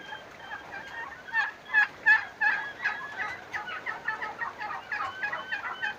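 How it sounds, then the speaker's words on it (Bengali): A flock of turkeys on a commercial turkey farm gobbles in overlapping bursts, a loud cluster of calls near the start giving way to steady, busier gobbling that continues to the end. "আজ আমরা মোটামুটি বাণিজ্যিকভাবে টার্কির চাষ করতে যাচ্ছি"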